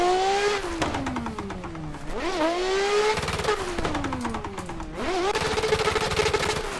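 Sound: drifting car tires squealing

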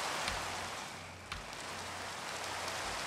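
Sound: rain in the video game Minecraft

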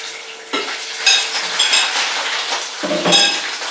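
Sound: shrimp sizzling in hot frying pan

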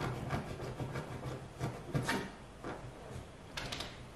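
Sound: dog digging in a sofa cushion

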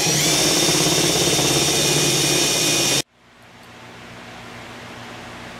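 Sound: RYOBI power tool driving outboard motor spinning in reverse

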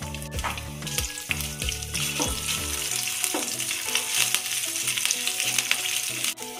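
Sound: ginger paste and green chilies frying in oil in a kadai

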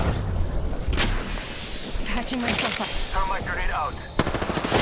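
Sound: gunfire in a video game

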